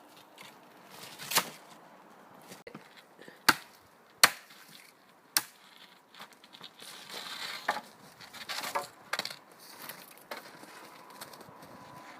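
A knife chops tree branches while limbing a felled tree outdoors, with several sharp, loud strikes spaced irregularly between quieter crunching and rustling of wood.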